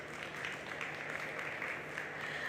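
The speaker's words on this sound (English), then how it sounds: "a big round of applause" Steady clapping from a crowd welcoming the jury at a fashion design challenge, a dense even patter held at moderate level throughout without pause.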